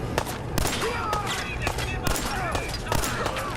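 In Fallout 4 combat, several sharp gunshots crack out at irregular intervals, loud and close, each with a short echoing tail over steady game background noise.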